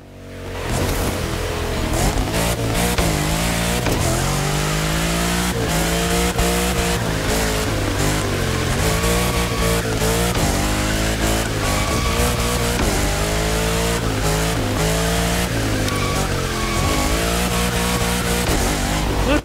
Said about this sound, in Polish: tak szybko sobie teraz jadąc tutaj i testując samochód driftowy